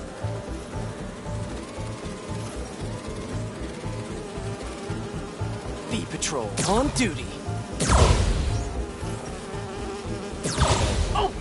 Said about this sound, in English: You're not gonna mess with my bees.